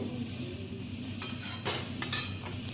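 A potato, flat bean and egg curry is stirred in a pan, with soft scraping and clinks of a utensil against the metal over a low steady sizzle, close and continuous.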